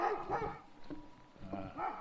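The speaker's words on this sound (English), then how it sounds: "that barking dog" A dog barks at a house in small-town White Sulphur Springs, Montana, a few moderately loud barks mixed with yips, heard from a short distance outdoors.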